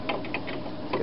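A 3/8 socket ratchet tightens a fastener on an old Toro lawn mower, giving a quick run of about six or seven light clicking pawl ticks, close and quiet, lasting about a second with no voices.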